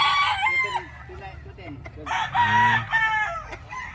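A Butcher Super Brown stag rooster, about seven months old, crows loudly and close by in two long bursts, with short clucking sounds in between.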